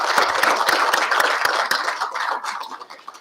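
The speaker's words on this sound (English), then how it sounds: "If we could give all of them a round of applause." Applause from a crowd at an outdoor groundbreaking ceremony for a new elementary school, dense steady clapping that carries through and then thins out toward the end.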